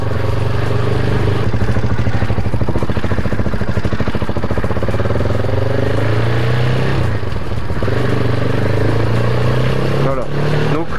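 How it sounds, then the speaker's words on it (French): A quad bike engine idles and putters as the rider takes a corner at very low speed, a steady loud throbbing drone with slight rises in revs, and someone talks over it. "donc là un virage à très faible allure, tu restes droit sur ton quad"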